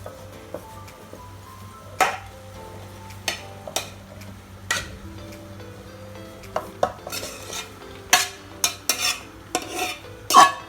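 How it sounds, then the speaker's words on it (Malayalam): A spoon scrapes and clanks against a metal pot while cooked rice is mixed and layered over chicken for Thalassery chicken dum biryani, with scattered sharp knocks and soft stirring between them, close and unhurried. "നല്ല മിക്സ് ചെയ്തിട്ട് ചിക്കൻ്റെ മുകളിലേക്ക് അങ്ങ് ഇടും."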